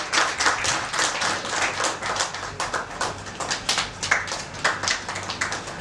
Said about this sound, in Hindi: तालियां बार बार कहनी पड़ रही है